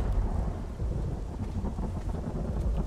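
Steady rain with low, rolling thunder fills a stormy scene in the survival game The Isle, a dense continuous rumble with no voices.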